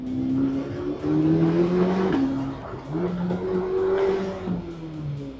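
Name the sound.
car driving smoothly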